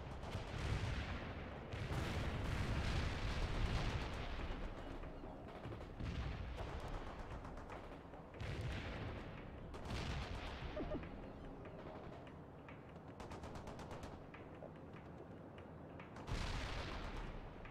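Incoming gunfire and explosions in the real-time strategy game World in Conflict, a dense barrage of shots and booms that swells and recedes in waves, staying loud and continuous throughout.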